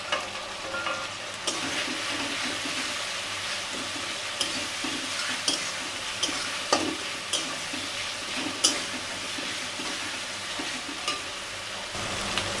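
Spices (garlic paste, cumin powder, meat masala and Kashmiri chilli powder) fry in goat fat for ghugni with a continuous close sizzle and intermittent stirring scrapes, no talking.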